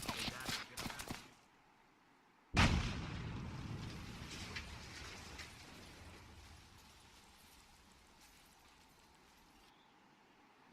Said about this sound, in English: We don't think it's an RPG though. I think they might be mortars. Correction, grenade launchers.